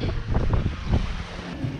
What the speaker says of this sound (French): Alors là le vent a repris un petit peu.